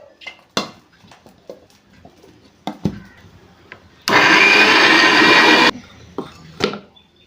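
A mixer grinder whirs loudly in one short burst of under two seconds, grinding biryani masala with mint and cinnamon. Scattered clinks and knocks of kitchen utensils come before and after the burst.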